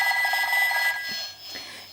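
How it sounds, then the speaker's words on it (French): Telephone ringing from a Peppa Pig children's sound book, a bright electronic ring with steady tonal harmonics, fairly close and sustained before fading slightly near the end. "Ils sont interrompus par la sonnerie du téléphone."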